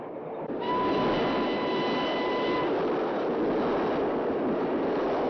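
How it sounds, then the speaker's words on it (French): Train arriving at Saint-Étienne station, a steady loud rolling rumble of the rail cars with a thin high brake squeal that holds for a couple of seconds before the wheels keep grinding on alone. "Mesdames, messieurs, nous arrivons en gare de Saint-Étienne."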